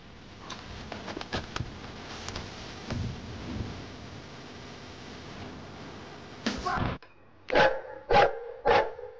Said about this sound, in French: Et si Dobby croise un autre chien, c'est la totale